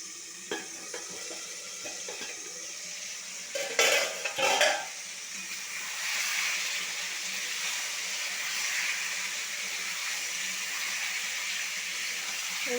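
Chicken cooks slowly over a low flame in a covered pan, giving a soft continuous sizzle and hiss, with a few clattering stirs and lid knocks early on before the gentle frying settles into a steady wash.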